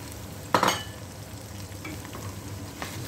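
Tomato paste poured into a hot karahi for a quail karahi, giving one loud sizzling burst near the start, then a steady low frying hiss with a faint stir or clink near the end, no talk.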